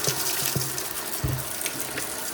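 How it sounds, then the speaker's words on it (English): Water running steadily from a kitchen tap into a sink during household cleaning, a continuous close gush with a few faint clinks, no talking. "I'm going to run some water as well."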